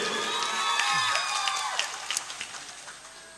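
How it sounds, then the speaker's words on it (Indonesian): A crowd at a Ramadan sholawat cart parade competition in Kalabahi cheers and claps, with shrill whoops and shouts rising over scattered applause that fades out over a few seconds. "Tepuk tangan dulu yang meriah buat Cijantung 7."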